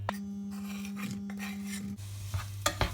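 Onions being stirred in a pan on a gas stove, with a close rasping scrape of the utensil against the pan, a low steady hum, and a few sharp clinks near the end.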